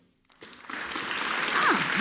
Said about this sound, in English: Please welcome on stage, with a warm applause